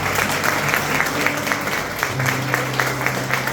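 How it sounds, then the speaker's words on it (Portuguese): Applause from a church retreat audience, a continuous wash of many hands clapping at moderate volume with a low steady hum beneath, no speech on top. "Olha uma salva de palmas."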